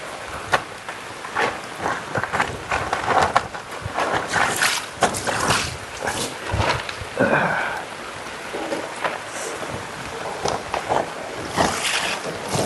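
Rain falls steadily with irregular heavier drips and splashes throughout, fairly close and loud, no voices.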